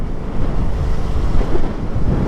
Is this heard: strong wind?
yes